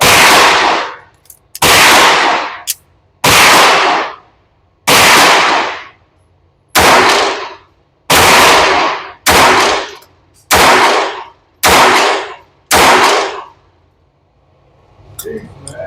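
A Ruger Mark IV 22/45 Lite .22LR pistol fires about ten loud, sharp shots at an outdoor range, spaced roughly a second apart with short ringing decays between them.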